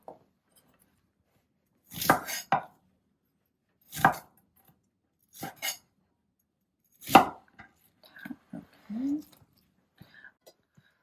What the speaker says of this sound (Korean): 얘를 큼직한 네모가 나오게, 이렇게 썰어 놓으시면 돼요